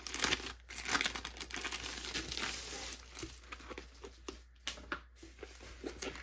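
Crinkly plastic wrapping being pulled and crumpled off a Diamond Art Club canvas package, close and fairly quiet, with irregular rustles and tearing bursts coming and going.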